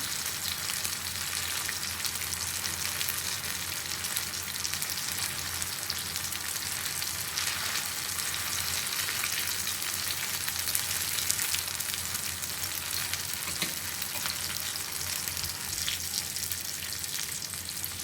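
Fish fries in oil with a dense, even hiss that holds close and unbroken throughout, like steady rain, with scattered soft pops.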